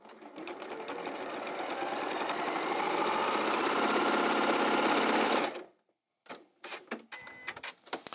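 A domestic sewing machine stitches quilt pieces for a kimono quilt in a long, steady, close run of rapid mechanical whirring for about five seconds, then stops, followed by a few short clicks and handling knocks.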